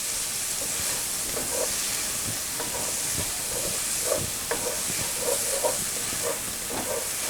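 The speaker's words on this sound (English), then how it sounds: "I got to stay stirring in there because we don't want them onions and stuff to burn." Garlic and onions frying in a pot for catfish courtbouillon, a steady close sizzle and hiss with scattered soft scrapes and taps of a spoon stirring through it.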